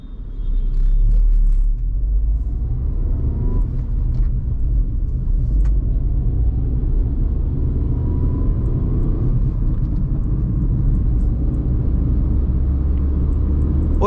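A Tata Punch engine rumbles low and steady from inside the cabin in first gear, revving up as the car pulls forward in a sustained drone.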